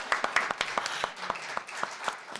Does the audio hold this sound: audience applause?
yes